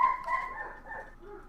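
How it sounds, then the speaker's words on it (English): A dog gives a short run of whining barks and yips, faint and somewhat distant, over quiet background. "Well, that dog is barking."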